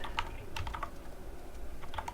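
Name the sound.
typing JavaScript code on a computer keyboard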